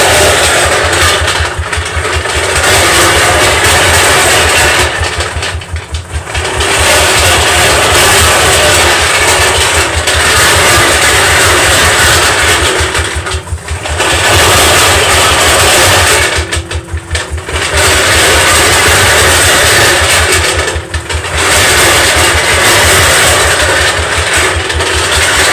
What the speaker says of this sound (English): Those are balls making a lot of noise.